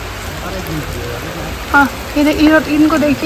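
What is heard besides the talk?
heavy rain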